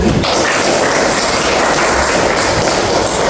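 Classroom applause from students during a lesson, a dense, steady patter of many hands clapping together that fills the whole stretch at an even level.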